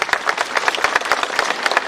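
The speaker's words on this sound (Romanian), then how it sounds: "Da, putem aplauda." Applause at the unveiling and blessing of a heroes' war memorial in Helegiu, Romania: a crowd claps steadily and briskly and fairly close, filling the short moment with dense overlapping claps.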